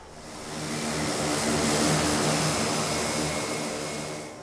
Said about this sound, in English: There's our rescue plane.